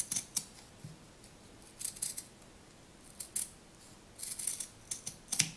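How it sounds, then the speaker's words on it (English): Scissors snip through the excess length of a zipper, with several crisp cuts in short bursts and pauses, close up and fairly quiet, during dragonfly craft work. "you're going to take your scissors and you're just going to cut the excess off."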